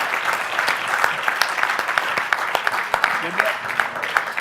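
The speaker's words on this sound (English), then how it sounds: "Let's give a round of applause to our panelists." Conference audience claps for a panel of hosts, a moderate round of applause with distinct individual claps audible over the steady patter, steady for the whole stretch.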